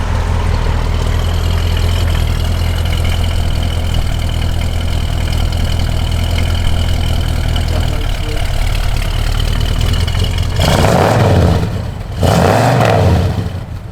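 A 1970 Chevrolet Chevelle SS V8 idles loudly and close up with a deep, steady rumble, then blips the throttle twice near the end in two brief revs before settling back.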